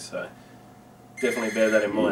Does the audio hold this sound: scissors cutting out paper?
no